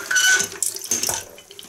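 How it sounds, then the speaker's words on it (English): Keyboard keycaps rinsed under a running tap, with splashing water and the clatter of plastic keys knocking together in a sink, loud and close in short uneven bursts. "I'll just rinse all the keys."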